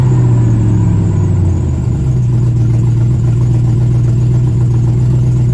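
An LS-swapped Chevrolet C10 truck engine cranking briefly then settling into a steady, close idle with a deep rumbling hum.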